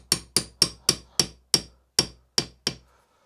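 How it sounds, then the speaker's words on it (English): A hammer taps a silk drift down over a valve guide to seat a valve stem seal on a Ford 1900 crossflow engine, giving nine close, sharp knocks at a fairly steady pace that spread out slightly toward the end. "pop it on the guide, using a silk drift and a hammer."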